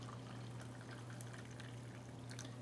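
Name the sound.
hot water poured into Russian MRE food pouch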